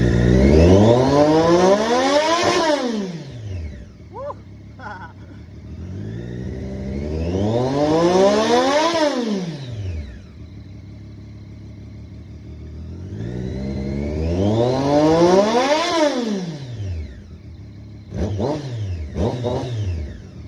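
A 2017 Triumph 675R motorcycle engine, with a warm exhaust, revved loudly and close up in three long sweeps that rise and fall, each followed by a short, sharp blip at idle.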